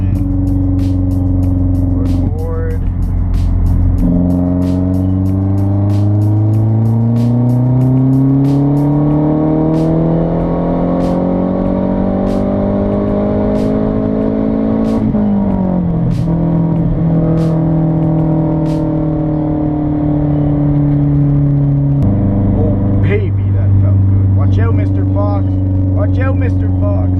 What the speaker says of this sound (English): I'm going to try for one more fourth gear pull here